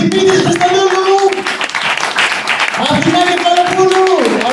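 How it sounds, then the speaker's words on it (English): A comedy club audience in Athens claps and cheers for the comedians, a steady wash of applause running throughout while a voice talks loudly over it. "Please, a round of applause for each of them."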